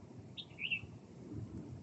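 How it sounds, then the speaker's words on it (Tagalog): A bird gives a couple of brief high chirps in a remote mountain forest beside a railway, standing out over a steady low rumble of wind or distant background noise. "Dinig niyo yung kahoy. Yung ibon."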